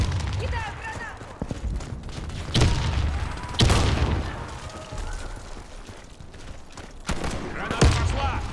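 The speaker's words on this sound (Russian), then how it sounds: "Кидаю гранату!" Grenade blasts and gunfire ring out in a first-person shooter round on a hangar map, with sharp explosive bursts near 2.6, 3.7 and 7.2 seconds over steady battle noise as a player calls out repeatedly.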